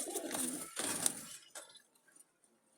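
Jalali pigeons in a coop make a few soft coos and fluttery bursts in quick succession close by, then go quiet with only faint scattered sounds.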